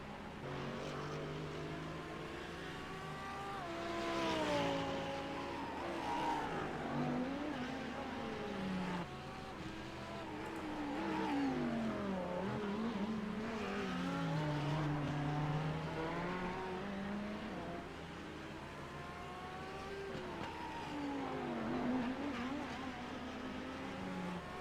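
GT3 race cars at the Long Beach street circuit scream past in a steady, continuous drone, engine pitch rising and falling through gear changes and passes, heard at a moderate distance with no talk.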